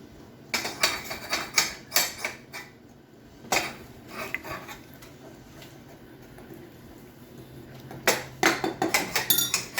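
A spoon scrapes and clinks against a pot while stirring a homemade watercolour paint mixture, in quick rhythmic bursts of rasping strokes, pausing briefly before a final flurry of close, brisk stirring.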